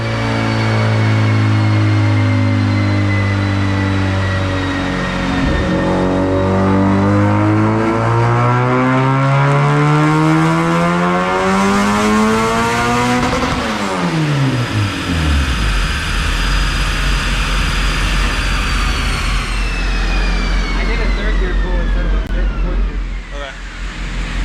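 A turbocharged Honda D16 engine in an EF hatch climbs steadily in pitch through a loud dyno pull, then drops sharply as the throttle closes and winds down, with turbo whine throughout.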